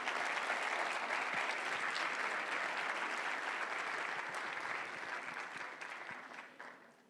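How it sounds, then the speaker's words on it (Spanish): Young university students at a law conference applaud themselves with broad, steady clapping that holds for several seconds before tapering off to a few last claps. "Un aplauso para ustedes mismos"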